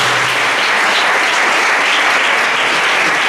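A hall audience claps loudly for a project presented at an awards event, a thick, unbroken burst of applause filling the short stretch.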